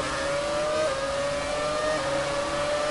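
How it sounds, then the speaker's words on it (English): A Formula 1 car's engine revs in the F1 2017 racing video game, a steady, high buzzing drone with slight pitch shifts, loud and continuous with no talk. "Man, that does not sound good when you rev it up, does it?"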